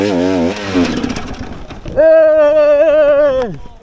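An enduro motorcycle engine roars up into a loud, sustained rev with a wavering pitch, then cuts off sharply. It follows a burst of shouting voices nearby on a rough downhill trail.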